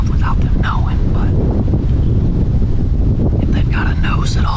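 Strong wind buffets the microphone outdoors during a bowhunt, a loud constant low roar that runs throughout while someone speaks quietly over it.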